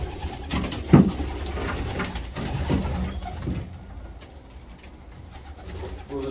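Roller pigeons in a loft coo repeatedly in low throaty bursts close by, with one brief louder peak early on, then the cooing grows fainter and softer over the last few seconds.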